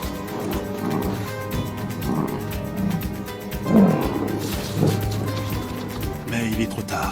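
Lions attacking a buffalo on the savanna let out deep, guttural roars and growls in a few loud bursts, close by, over a low rumbling background.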